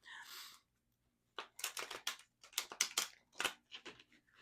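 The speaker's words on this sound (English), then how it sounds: "I'm trying to shuffle these cards, which don't really want to shuffle." Tarot cards are shuffled by hand in a quiet room, a series of short crisp riffling and slapping bursts in irregular clusters, close and fairly soft.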